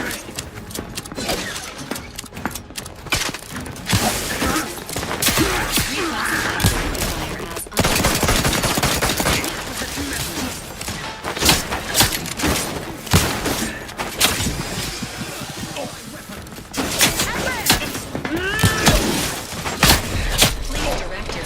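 Rapid gunfire rattles in a combat firefight in The Outer Worlds 2, with bursts and single shots packed densely over a busy, loud mix and voices calling out intermittently.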